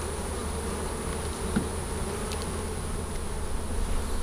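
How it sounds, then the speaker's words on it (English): Dense, steady buzzing of many honey bees around a hive close by, a continuous drone with individual insects whirring past. "There's a lot of bees under the bottom of this thing."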